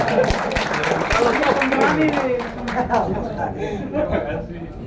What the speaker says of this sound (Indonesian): Tepuk tangan dulu untuk Mas Bambang.